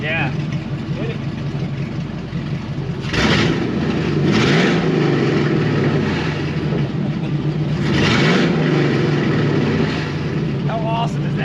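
A restored 1956 Chevy Bel Air engine with its exhaust cutouts open revs loudly and close by in two strong surges over a steady rumbling idle, while people talk and react over it.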